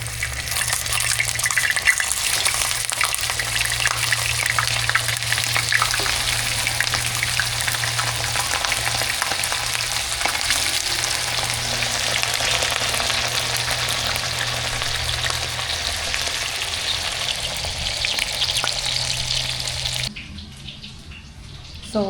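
A burger patty fries in a pan, a steady loud sizzle running unbroken for about twenty seconds before it suddenly drops away.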